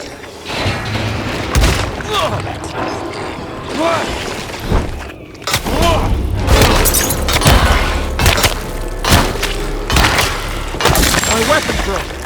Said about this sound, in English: My weapon broke.